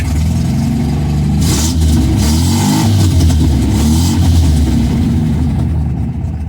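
A 1972 MGB engine, just after an oil change, runs at idle slightly low and uneven, a close, loud steady rumble with mild rises and dips in pitch throughout.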